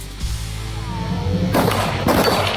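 Rifle shots ring out at a three-gun shooting match, two sharp loud cracks about half a second apart, heard over a steady background hum and low ambient noise.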